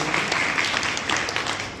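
Crowd applause for Surendra, a dholak player at a devotional music gathering: a steady, dense wash of many hands clapping together, fairly loud and continuous, with a faint voice mixed in underneath.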